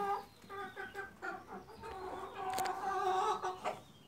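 A chicken clucks repeatedly in short bursts, close by, rising into a longer agitated cackle before settling back to clucks.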